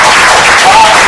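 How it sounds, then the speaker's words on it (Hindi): An audience at an MBBS counselling programme applauds a doctor, a short, loud wash of clapping with a voice mixed in, lasting about a second. "तालियां सर के लिए।"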